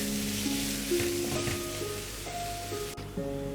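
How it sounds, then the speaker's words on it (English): Green mango pieces sizzle and fry in a pan, a steady broadband hiss with faint stirring scrapes, continuous and close with no talking. "We need to cook this until the mango becomes a bit soft."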